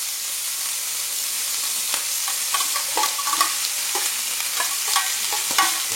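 Vegetable mirepoix sautéing in a pan for a lamb and flageolet bean stew, with a steady sizzle of frying broken by scattered clinks and scrapes of stirring, close and fairly loud.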